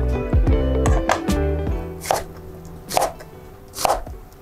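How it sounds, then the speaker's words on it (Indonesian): A knife chops carrots into cubes on a cutting board with quick clustered taps, then a few slower, separate cuts; no talking. "sekarang kita potong wortelnya kotak-kotak aja"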